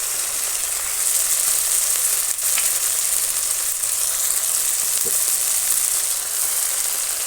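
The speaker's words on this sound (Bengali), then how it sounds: "লবণ দিয়ে আর একটু ভাজা ভাজা করে নেওয়ার পরে দিয়ে দিচ্ছি যে বাটা মশলা বেটেছি সেইটা সব দিয়ে দিচ্ছি পেঁয়াজের মধ্যে" Ground spice paste frying with onions in a pan, a steady loud sizzle and crackle throughout with occasional faint clinks of a utensil.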